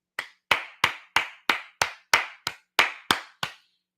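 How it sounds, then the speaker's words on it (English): A single person claps slowly, about eleven crisp, evenly spaced claps close to the listener in an otherwise quiet room. "Pardon me while I stand up and applaud."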